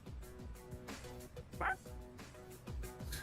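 Dog barks in a video game, several short yips and bow-wows repeating at a steady pace under background game music, with a brief brighter squeal midway.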